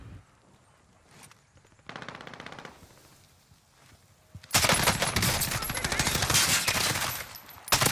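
Sustained AK rifle fire in the shooter game Call of Duty Warzone, a loud dense automatic burst running over the last few seconds after quieter movement and scattered shots.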